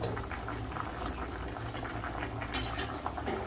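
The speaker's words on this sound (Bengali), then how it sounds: "ঝোল তো ফুটছে" Thin vegetable curry broth with potato, eggplant, green banana and lentil dumplings bubbling steadily in a pot, a dense continuous simmering hiss with small pops, close and moderately quiet, no voices.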